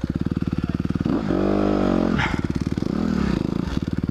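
A 2021 Honda CRF 250R dirt bike engine idles with a rapid close putter, then revs up hard in two loud sustained bursts, dropping back to a choppy idle between them.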